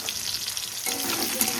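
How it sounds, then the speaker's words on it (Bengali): Plantain pieces frying in hot oil make a dense, steady crackling sizzle up close, growing slightly louder midway through, with no talking. "চলো কলাগুলো একটু ভেজে নিই"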